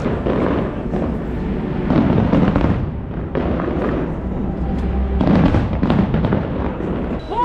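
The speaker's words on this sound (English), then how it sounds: "there are some fireworks going on there" Fireworks set off in the distance over an Oxford suburb: a steady, dense rumble of booms and crackles that goes on without a break, fairly loud throughout.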